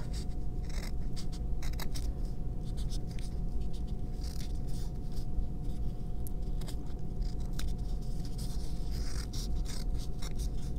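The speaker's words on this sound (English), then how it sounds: "So I take my smaller scissors and trim that off." Small scissors trimming fabric around an Easter egg, quiet repeated snips and light rustling close by in a steady working rhythm, with a faint constant hum behind.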